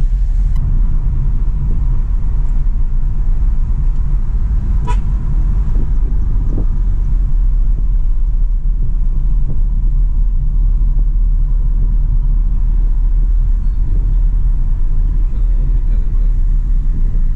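Steady, loud interior rumble of a Maruti Swift VDi diesel car driving and overtaking on a road, with constant low engine and road drone and a brief faint tone partway through.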